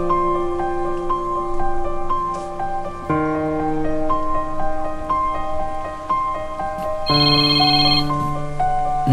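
A mobile phone rings inside a car with a steady melodic ringtone, repeating tonal phrases that shift pitch partway through and again near the end, loud and close with no talk over it.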